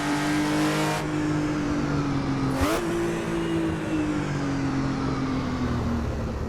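A Porsche 935 with a 3.1 liter turbo engine rasps loudly in AC EVO, its tone holding steady, then jumping at a quick gear change and falling slowly as it pulls.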